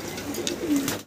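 A pair of Black Gold Archangel fancy pigeons gives a single short, soft, close coo lasting about a second.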